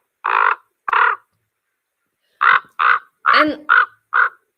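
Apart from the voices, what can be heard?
raven calls, deep gravelly raspy croaks with purrs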